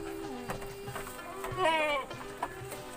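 A goat in a farmer's pen lets out one clear, wavering bleat midway, close by, over a background of low chatter and farmyard murmur.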